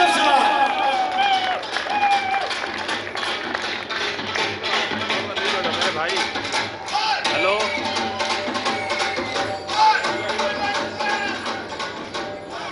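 An audience at a sales award ceremony claps continuously and loudly, a dense, even wash of applause with faint crowd murmur running through the whole stretch.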